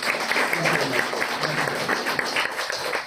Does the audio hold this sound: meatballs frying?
no